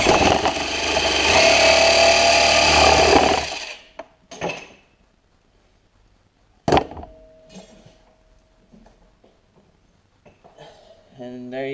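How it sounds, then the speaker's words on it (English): Power saw cutting through a wooden dowel rod for a homemade topwater fishing lure, a loud steady buzzing cut lasting a few seconds and then stopping abruptly, followed by quiet clatter and faint handling sounds. "make sure everything's plugged in, or if you have a hacksaw, just get ready and just make your cut"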